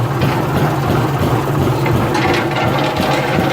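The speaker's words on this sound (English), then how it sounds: "So you gotta let your wash machine warm up." A washing machine motor runs steadily with a low, continuous hum and mechanical rumble, close and even throughout with no talking.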